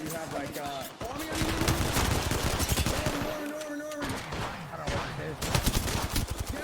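Rapid gunfire in Apex Legends, dense bursts of automatic shots rattling almost continuously with brief pauses, mixed with game effects and some voice.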